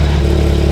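A GT3 sports car engine with exhaust valves shut, caught in a short, close, loud rev that holds a steady throaty drone for under a second, with no speech.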